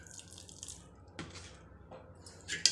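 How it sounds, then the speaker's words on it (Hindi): Small amounts of water splash and trickle into soaked urad dal in a grinder jar, a few short wet pours and drips spaced apart, close and fairly quiet, with no talking. "थोड़ा सा पानी डाल लेती हूँ दोस्तों इसमें"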